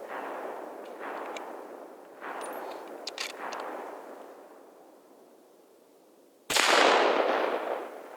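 Single rifle shot from a 6.5 Creedmoor or .270 Winchester fitted with a muzzle brake, outdoors in the cold; a sharp, loud crack late in the clip followed by a decaying echo, preceded by quiet wind and faint rustling.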